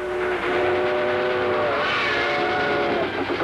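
A train runs steadily along the rails, its loud continuous rumble carrying sustained whistle-like tones and a brief swell near the middle, with no voices over it.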